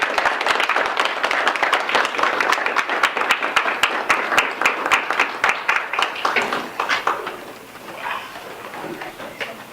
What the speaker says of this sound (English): So if we could give him a round of applause as he comes on up